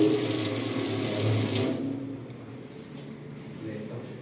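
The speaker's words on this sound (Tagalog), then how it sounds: "Tubig, oh." Tap water runs in a steady hiss for about two seconds and then stops, leaving a quieter room background.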